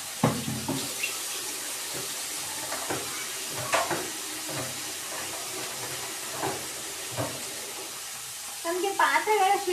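Water runs steadily from a kitchen tap into the sink while a pot is washed, with hissing flow and intermittent knocks and scrapes of the pot, growing louder toward the end.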